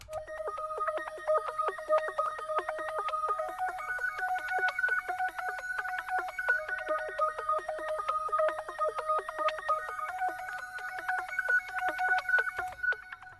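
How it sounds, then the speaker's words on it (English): A pulsating synth pad throbs in fast, even pulses of bright sustained tones, moderately quiet and steady throughout, with no voices. "It's a pulsating pad, which I got in one of the banks that I have."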